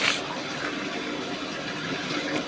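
Water running and splashing as washed wheat grains are rinsed and drained into a strainer in a home kitchen, a steady close gush with no talk.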